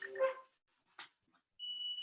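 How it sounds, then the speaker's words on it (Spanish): A phone alarm set to wake a child for school, a steady electronic tone that sounds near and moderately loud after some brief faint noises. "Está sonando una alarma que es de mi hijo que tiene que entrar a clases"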